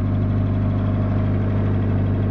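A 1984 Jeep DJ-5M engine idling, a steady, close low rumble with an even throb and no variation across the short stretch.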